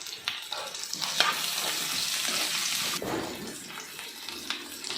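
Chopped capsicum sizzles in a hot pan for bisi bele bath, a bright hissing fry broken by scraping stirs and a sudden change in texture partway through, close and steady.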